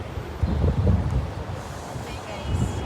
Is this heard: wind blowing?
yes